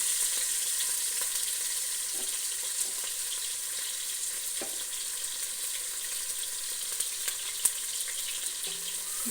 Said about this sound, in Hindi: अब मैंने पैन में जो है वो ऑयल डाला और उसको गर्म कर लिया, और जो प्याज कट करके हम लोगों ने रखा था